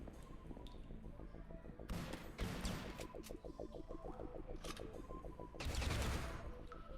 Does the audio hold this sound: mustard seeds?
no